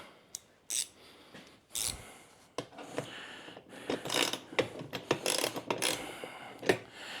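A ratchet with a 13 mm socket tightens nylon-nut bolts on a Gorilla heavy-duty poly yard dump cart, giving close, irregular bursts of rapid clicking separated by short pauses, with no talk.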